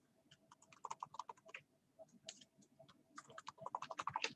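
Quick bursts of computer keyboard typing, close and crisp, in uneven clusters with short pauses between runs of keystrokes.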